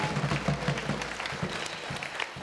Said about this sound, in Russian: Мы аплодируем вам.